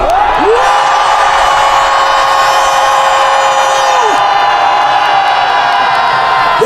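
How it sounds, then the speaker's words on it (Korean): Large outdoor crowd at a political rally in a station plaza in Daegu, South Korea, roaring, shouting and cheering in a loud sustained wall of voices, with long rising and falling whistle or siren-like tones cutting through. "이 승리를 믿으신다면 전방을 향해 함성 5초간"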